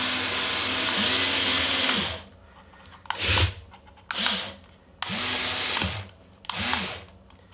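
A small electric motor lowers the bucket on a Micro Steel World RC Bobcat model. It gives five whining bursts of varying length with brief gaps between them, loud and close, with no speech.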